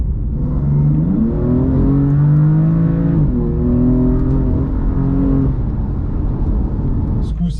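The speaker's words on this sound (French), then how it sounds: "là, on s'est fait une petite accélération" BMW M4 CS accelerating hard, a loud close engine rising in pitch through the gears with shifts between pulls, heard from inside the car.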